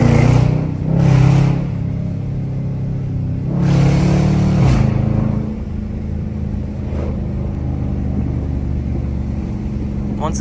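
A Dodge Charger R/T Hemi V8 revs in sharp loud bursts with deep exhaust rumble and crackling pops between throttle blips, then settles into a lower idling drone.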